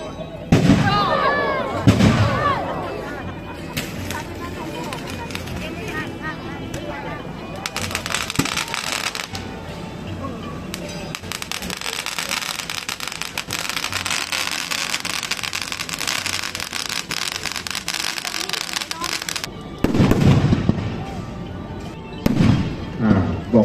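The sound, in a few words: fireworks and big bamboo rockets at Thai cremation festival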